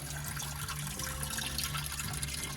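Water draining and trickling out of the engine of a 2011 Supra wakeboard boat during winterizing, a steady faint splashing flow running continuously without talk.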